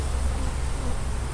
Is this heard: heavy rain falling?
no